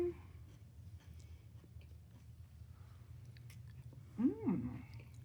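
Brief close chewing and biting of salmon croquettes and curried coleslaw, a soft crunchy burst near the end after quiet, otherwise near-silent stretch.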